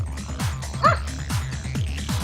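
A dog barks and yips repeatedly in a steady rhythm, close and fairly loud, with a brief whimpering whine in the middle, all within a video game scene.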